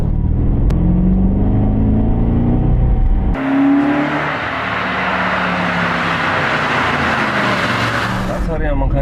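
An Audi S4 4.2 quattro drives along, its engine humming low then opening into a broad roaring rush of engine and road noise, near and steady, with someone talking over it.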